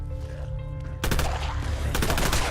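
Rapid automatic fire from the Clash gun in Fallout London, a sudden burst of dense, loud shots kicking in after a quieter stretch of game ambience and continuing with a second surge near the end.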